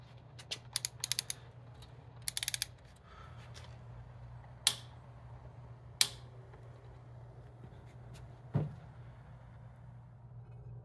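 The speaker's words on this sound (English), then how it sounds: "Assemble the three pieces, adding a new crush washer and torque down the bolt." Ratchet wrench torquing down an oil cooler bolt with a new crush washer on a Porsche 944 engine during a rebuild, heard as quiet bursts of rapid clicking followed by a few sharp isolated ticks over a steady low hum.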